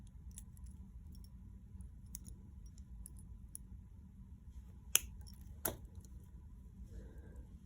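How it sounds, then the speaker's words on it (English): Two crisp snips close by as excess bead-stringing wire is trimmed from handmade beaded earrings, sharp isolated clicks over a quiet background with faint handling rustles, no talk. "now we're gonna trim off the excess here."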